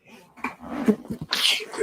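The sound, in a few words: sneeze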